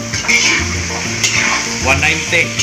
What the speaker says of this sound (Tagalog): igisa ng karne. Ang pork.